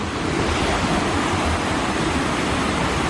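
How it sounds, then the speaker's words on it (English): A high-running creek in Oregon's Coastal Range rushing loudly and steadily, a dense unbroken roar of water close by with no pauses. "This creek seems to be running pretty high right now"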